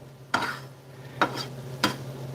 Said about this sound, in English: Give that a stir. Looks like all the butter and the tomatoes are heating up.